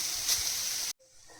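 Grated carrot frying hard in a hot pan for carrot halwa gives a loud, steady hiss and sizzle close by that cuts off abruptly after about a second, leaving only a faint background.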